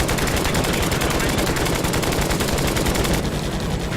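Sustained rapid machine-gun fire in the air-combat game Flying Tigers Over China, loud and continuous with dense rattling bursts throughout, easing slightly near the end.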